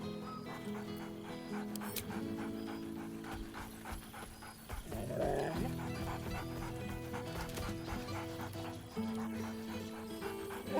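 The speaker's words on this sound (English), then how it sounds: "Scratch barks merrily in something like agreement." A dog barks cheerfully in Baldur's Gate 3, short bright yaps and panting over steady game music and ambience, fairly close and moderately loud.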